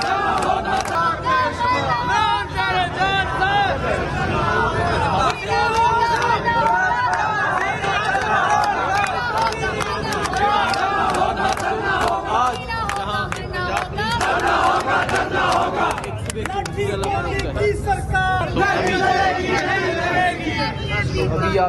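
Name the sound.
angry crowd of protesters in Rawalpindi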